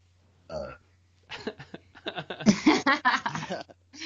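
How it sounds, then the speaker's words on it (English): A person lets out a burp followed by chatter and laughter from several people at close range, the burp blending into lively voices. "No, I burped."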